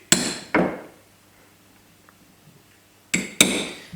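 Two pairs of sharp metallic taps, a hammer striking a center punch to mark drilling spots in wood, loud and close, separated by a few seconds of quiet.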